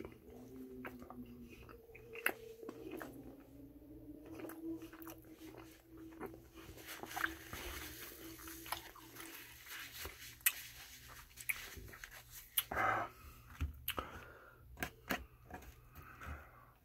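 Close, intimate chewing of a bagel with Romano cheese: steady crunchy bites and wet mastication with soft crackles and occasional louder snaps, recorded quietly with no talking.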